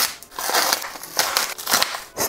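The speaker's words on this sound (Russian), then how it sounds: "В пух и прах разодрали этот пакетик" A small plastic parcel bag is ripped open by hand, giving close, irregular bursts of crinkling and tearing.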